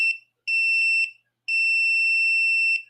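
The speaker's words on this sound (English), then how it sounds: "Let's check and see if we are diamonds. Be ready to beep" A diamond tester sounds high, piercing electronic tones while checking a gemstone, two sustained beeps separated by a short gap. The tones are close and clear, with no voices.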